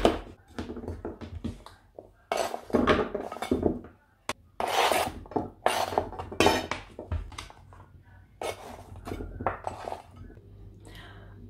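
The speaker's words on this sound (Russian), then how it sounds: "И я нарезаю тыкву брусочками, кубиками, как получится." Repeated knife strokes chop firm pumpkin into cubes on a board, uneven rhythm, close and clear with small clinks between cuts.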